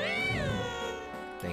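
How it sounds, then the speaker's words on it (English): A cat in Pokémon Y gives one drawn-out meow that falls in pitch, fairly loud and alone against faint game background sound. "Hey, get back here, kitty."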